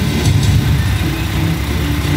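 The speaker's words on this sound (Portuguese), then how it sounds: "Ele vem com a sua moto lança-chamas." A flamethrower motorcycle's engine runs loud and close in a steady, rumbling drone, continuous throughout with no talking over it.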